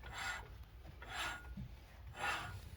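A brake rotor is rubbed by hand with rubbing compound in full circular strokes. Three soft, gritty rasping sweeps come at roughly one-second intervals, close and fairly quiet, with no talking.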